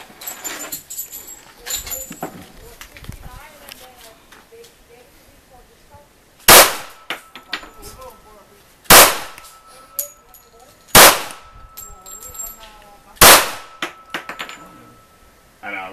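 .45 ACP pistol shots hit a laptop outdoors, five sharp loud cracks spaced a couple of seconds apart with quieter talk and movement between them.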